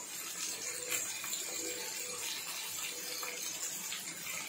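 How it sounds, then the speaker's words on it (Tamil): Onions and tomato frying together in a pan for kara chutney, giving a continuous close hissing sizzle at an even level throughout, with no voices. "இதுவும் வெங்காயத்து கூட நல்லா ஃப்ரை பண்ணிக்கோங்க"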